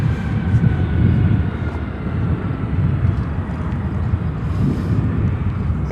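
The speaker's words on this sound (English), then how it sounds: "this is pushback for Cathay Pacific A350-1000 back to Hong Kong" Cathay Pacific Airbus A350-1000 being pushed back at Chicago O'Hare, a steady low airport rumble of idling jet engines and ground equipment, loud and continuous throughout with faint voices now and then.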